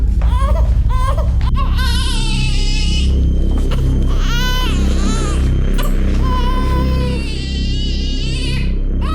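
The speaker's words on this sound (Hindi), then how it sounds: "घर में पिछले 4 घंटे से बच्चे की रोने की आवाज आ रही है" An infant cries and wails loudly and continuously inside a locked house, with repeated rising sobbing cries over a heavy low rumbling background, close and insistent throughout.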